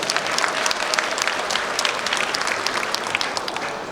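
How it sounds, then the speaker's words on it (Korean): Hearty applause from an audience at a Gyeongbuk volunteer crime-patrol association rally: loud, close clapping from a large crowd, a crisp continuous patter with sharp individual claps standing out throughout. "더 큰 박수 부탁드리겠습니다"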